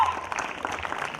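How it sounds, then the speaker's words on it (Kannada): An audience at a stage event claps together in a brief, dense patter of applause, fairly loud, with a voice faintly mixed in. "ಅವರ ಒಂದು ವಯಸ್ಸಿಗೆ ನಾವು ಜೋರ್ ಚಪ್ಪಾಳೆ ಮುಖಾಂತರ ಅವ್ರನ್ನ ವೇದಿಕೆಗೆ ಸ್ವಾಗತಿಸೋಣ."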